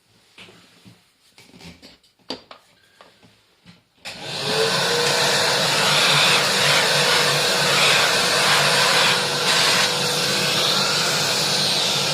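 After a few seconds of clattering and handling noises, a vacuum cleaner switches on and runs with a loud, steady whine, close by.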